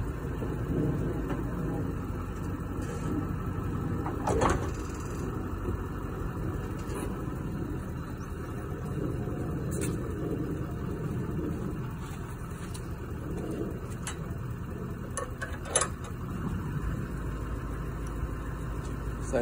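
A car idles steadily while slowly reversing onto a McHitch auto coupler, with a low engine hum throughout and a few brief clanks and knocks near the hitch.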